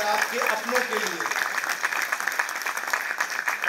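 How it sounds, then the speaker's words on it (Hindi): Audience applause at a theatre play staged by a drama school, a dense rolling clatter of many hands that carries on throughout with an announcer's voice speaking over it at the start. "एक बार जोरदार तालियां आपके अपने लिए और आपके अपनों के लिए।"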